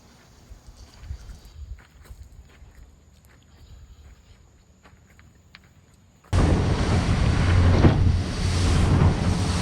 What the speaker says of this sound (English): I've been in worse chop than this, going full speed, and cuts through the water really nicely